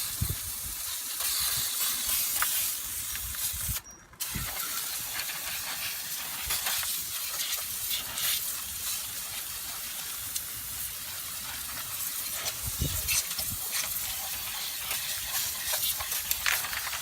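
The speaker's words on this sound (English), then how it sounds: "So now he's cleaning everything with the brake cleaner" Brake cleaner spraying onto the rear brake and parking-brake parts of a 2006 Chevy Trailblazer gives a steady, close hiss that runs almost the whole time, with one brief break early on and no talking.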